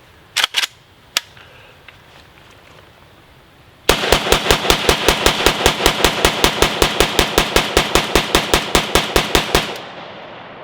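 A Riley Defense AK47 rifle fed from a Magpul magazine fires full metal jacket rounds outdoors: a few separate shots, then a long, loud, evenly spaced string of about thirty rapid cracks that ends abruptly.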